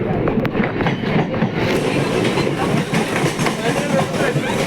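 A train rolls along the railway near Chennai Central station, a steady loud rumble with rhythmic clatter and a hissing high end throughout, as a voice talks over it.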